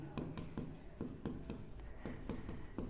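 A pen scratching out a maths formula on paper in a series of short, quick, close strokes with brief pauses between them.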